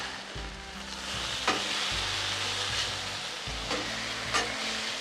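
Loud, steady sizzling of pork chops and potatoes frying in hot oil, with crackling pops and occasional scraping sounds.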